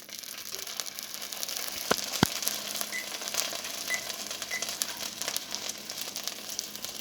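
A top sirloin steak sizzles in a pan, a soft steady crackle and hiss up close with a couple of sharp pops early on, no talking.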